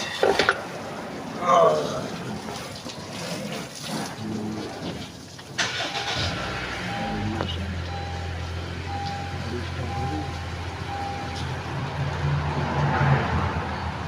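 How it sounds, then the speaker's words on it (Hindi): A car engine, parked for several days during heavy rain, cranks and catches, then settles into a steady low idle with faint beeps, after earlier door and seat movement sounds. "अब गाड़ी करते हैं स्टार्ट।"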